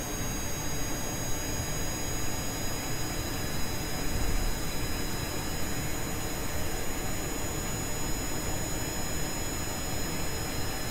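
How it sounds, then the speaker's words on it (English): Jet engine running on a plane in Kerbal Space Program, a constant loud whine and roar held steady from start to end with no talk. "My jet engine's turning on."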